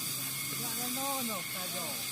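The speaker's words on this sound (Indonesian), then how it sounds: "itu udah mulai mendidih tapi belum masak benar" A pot of octopus pepenyok starts to boil over an outdoor traditional cooking fire, giving off a steady hiss of steam while voices talk over it.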